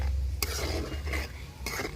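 Fennel seeds, salt and turmeric powder for a raw mango pickle are stirred together in a pan, brief scraping and clinking of a spoon against metal over a soft low hum, close and short.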